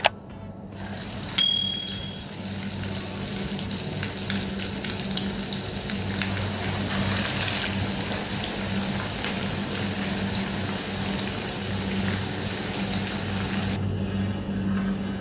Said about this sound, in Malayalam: ബാക്കിയുള്ള ചിക്കനും കൂടി ഫ്രൈ ചെയ്തെടുക്കാം.